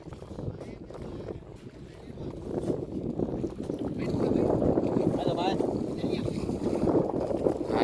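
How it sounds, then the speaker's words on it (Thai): Steady wind rushes over a small fishing boat out at sea during squid fishing, with a low rumbling drone and voices talking over it. "ลมลงแต่เช้าเลยครับ"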